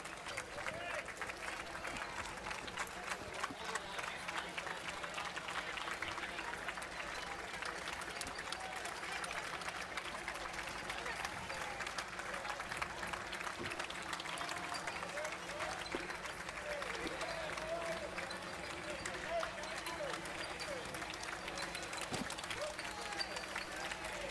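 Sustained applause and cheering from a July 4 parade crowd greeting passing veterans, a dense steady wash of clapping that holds through the whole stretch with scattered voices mixed in.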